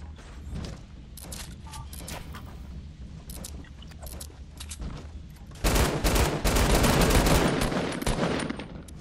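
Gunfire in a video game, a burst of shots that grows louder and denser in the second half, with rapid crackling bursts over a low rumbling background.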